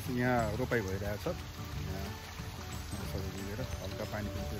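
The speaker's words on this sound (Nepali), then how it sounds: "यहाँ हल्का पानी पनि परिरहेछ" Light rain falls over a village rice-transplanting field, making a soft, even patter behind someone talking nearby.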